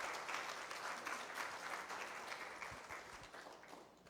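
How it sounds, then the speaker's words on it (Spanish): A church congregation gives steady, continuous applause during a sermon, a dense wash of many hands at moderate distance that eases slightly toward the end. "¿Cuánto le dan una fuerte ofrenda de palmas al Señor?"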